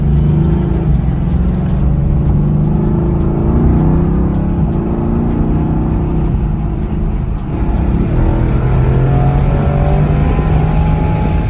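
A Mercedes-AMG GT Black Series engine drones steadily up close on a race track, with a deep low rumble and slight shifts in pitch as it drives at speed, continuous throughout.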